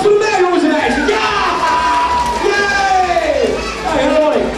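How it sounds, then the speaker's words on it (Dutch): Children cheer and shout at a Sinterklaas show, an excited crowd of young voices whooping and calling out loudly together throughout. "Applaus voor mij, jongens en meisjes!"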